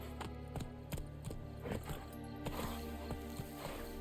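The horse Roach galloping in The Witcher 3 on PS5, a quick rhythmic clip-clop of hooves pounding steadily over game music, close and clear.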